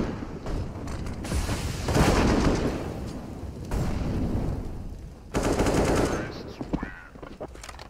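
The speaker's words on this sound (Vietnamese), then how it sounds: "Lại là một pha bắn rất nhanh đến từ Maka" Rapid gunfire in Counter-Strike on the de_vertigo map during a professional esports match, with bursts of shots and clattering mechanical weapon sounds repeating in several loud stretches over background commentary.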